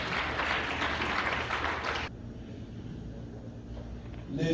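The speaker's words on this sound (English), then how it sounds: "give yourself a round of applause" Audience applause at a health care symposium in Detroit, a loud close round of clapping that cuts off abruptly after about two seconds, leaving quiet room tone.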